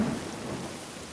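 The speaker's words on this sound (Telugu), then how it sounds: "వర్షం పెద్దదవుతోంది, నీళ్లు కాల్వాకు తిప్పాలి" Heavy rain pours steadily with a low thunder rumble at the start, a dense close wash of rainfall without voices.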